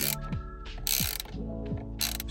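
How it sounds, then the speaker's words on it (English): Socket set ratchet working a T50 Torx screw loose on a 2008-2016 Vauxhall Insignia steering wheel: repeated loud clicking ratchet strokes with short sweeping turns, close up, no talking. "So I've given it a few twists, and as you can see, the torque screw is now starting to come out."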